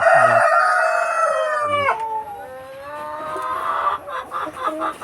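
Free-range hens in a backyard farm call close by, with a long, drawn-out crowing cry followed by a run of shorter, choppy clucks.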